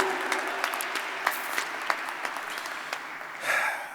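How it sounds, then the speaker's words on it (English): Steady applause from an audience at an Atlanta youth celebration honoring the Boys and Girls Club, with dense clapping throughout and a brief swell near the end. "Let's give them a round of applause."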